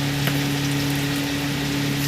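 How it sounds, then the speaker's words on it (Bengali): Ground coriander and cumin fry in a pan for egg korma, a loud, steady, close sizzle that holds for a couple of seconds under a constant background hum. "আমার এই মশলাটা ভাজা হয়ে গেছে।"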